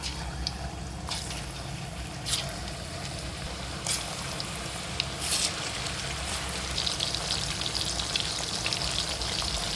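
Chicken frying in hot oil: a steady, close crackling sizzle runs throughout, with scattered sharper pops and spits and no clear talk.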